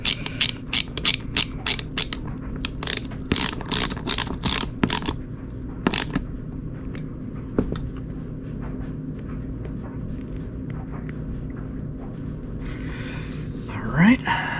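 Socket ratchet clicking on Kawasaki W1 motorcycle carburetor parts, a quick run of close, crisp pawl clicks followed by scattered lighter taps and handling noise, with low speech in the background.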